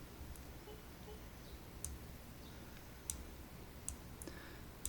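A computer mouse button pressed to take a measurement in circuit software: a few sparse, sharp clicks, faint and close against a quiet room hiss.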